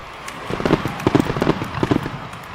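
Racehorses galloping at the Dubai World Cup, a quick run of rhythmic hoofbeats building for about two seconds, fairly close and loud over a faint background hiss.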